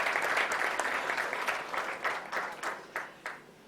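An audience applauds Vinod Satav at a Marathi film trailer launch event, with a dense round of clapping that thins into scattered claps, moderately distant.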